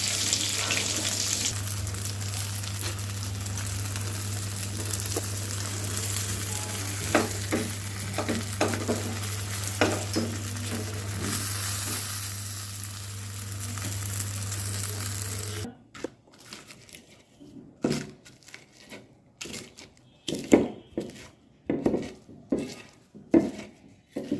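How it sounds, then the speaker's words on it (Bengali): Onion frying in a pan for eggplant bharta, a steady sizzle under a low hum with repeated scraping stirs, then the heat cuts out and only sparse clinks and scrapes of utensil against pan remain. "পেঁয়াজটা লাল লাল হয়ে আসছে আর একটু ভাজলেই হয়ে যাবে"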